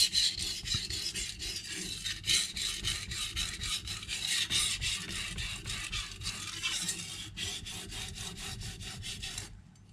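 Kitchen knife sharpened on a coarse 220 grit Naniwa superstone, a steady run of close, gritty rasping strokes at an even back-and-forth rhythm with no talk.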